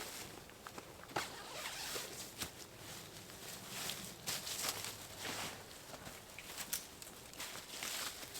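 A zipper on a TideWe 3 in 1 see-through hunting blind is pulled open in long rasping stretches, with rustling fabric and small knocks throughout, close and fairly steady.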